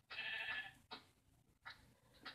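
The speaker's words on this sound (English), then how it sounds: "this sheep walked up to me, like this one right here" A sheep in the Minecraft video game bleats, one longer nasal bleat followed by several shorter, fainter bleats in quick succession, close and alone.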